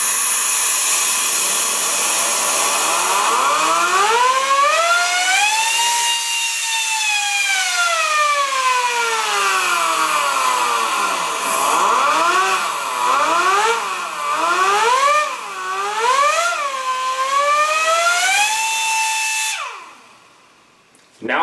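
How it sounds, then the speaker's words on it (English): Ingersoll Rand 2235 air impact wrench running in reverse at maximum power, a loud close continuous whine that swoops up and down in pitch as the trigger is worked, then cuts off abruptly. "Now let's try that same test with the Ingersoll Rand. This is also going to be in reverse on max power."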